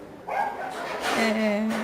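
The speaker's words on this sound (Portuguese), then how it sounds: "Olha meu cachorrinho aparecendo no meu vídeo, né? Fazendo barulho." A small dog gives a couple of yipping barks and a whine nearby, heard beneath indoor background sound during a crochet session.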